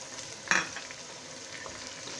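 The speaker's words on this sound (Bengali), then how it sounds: "সব কিছু দিয়ে খুব ভালোভাবে বেশ কিছুক্ষণ আমি একটু ভেজে নিব" Onions fry with ginger and garlic paste for a beef and potato curry, a soft steady sizzle with one sharp scrape of a spoon against the pan, heard close and without voices.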